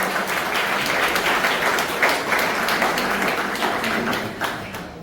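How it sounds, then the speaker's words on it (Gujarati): A crowd applauds the guests at a birthday celebration for Param Pujya Mataji with dense, even clapping that holds throughout and fades slightly at the end. "એમના માટે જોરદાર તાળી."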